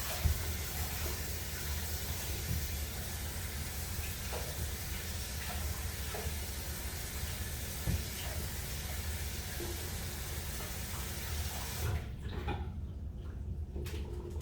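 Water running steadily from a tap or hose rinses a shoe being cleaned, a constant broadband hiss lasting about twelve seconds before cutting off abruptly, leaving a quieter room with a few faint clicks.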